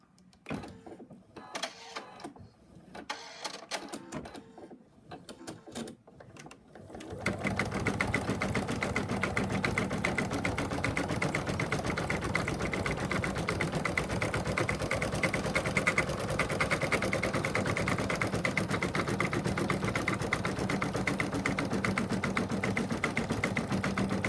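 An embroidery machine stitches appliqué fabric down over a placement line, sounding first in a few scattered taps and then settling into a loud, steady, rapid mechanical whirr that runs on continuously up close.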